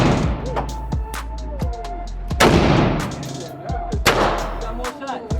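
AR rifle fired at an indoor gun range, several loud booming shots at irregular intervals with echoing reverberation between them.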